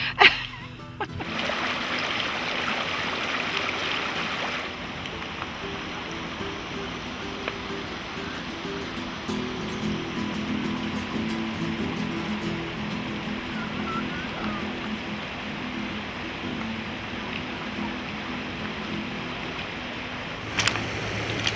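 River water runs over rocks among hills and countryside, a steady rushing splash that holds at a moderate level throughout, with a few brief louder knocks near the start and end and no speech.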